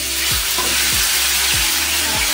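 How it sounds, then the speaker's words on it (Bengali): Marinated pieces frying in hot oil, a loud continuous sizzle up close with a few soft repeated thumps as the pan or pieces shift. "তো আমি তেল দিয়ে এটা এখন ছেড়ে দেবো। একসাথে দুটো করবো"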